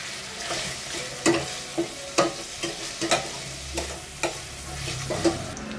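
Bacon browning and sizzling in a pan while a spoon stirs it, steady frying hiss under a series of sharp scraping clacks against the pan, close up with no talking.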